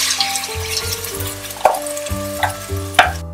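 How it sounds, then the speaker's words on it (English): Onions and ground masala fry in a pan for a methi chicken curry, a steady sizzle broken by a few sharp scraping stirs, close and alone with no talk. "Mix well and keep frying till the raw smell of onion goes."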